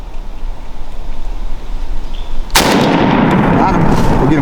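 A single loud shotgun-style gunshot is fired at a turkey during a hunt, following quiet outdoor ambience, and its boom rings out and echoes.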